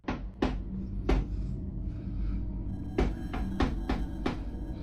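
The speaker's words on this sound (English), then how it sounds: "se están escuchando golpes en ese ropero" Sharp knocks come from inside a wooden wardrobe at night, a few isolated raps followed by a quicker cluster of four or five, close and distinct over a low background hum.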